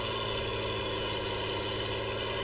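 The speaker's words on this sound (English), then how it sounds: "The engine pulls well." A Ford TW35 tractor engine runs steadily, a loud, dense diesel drone with a low rumbling throb and constant tonal hum, unbroken and close throughout.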